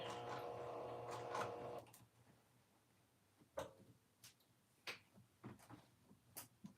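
A sewing machine edge stitching a dress hums steadily for about two seconds, then stops. Scattered soft clicks and handling taps follow in the quiet.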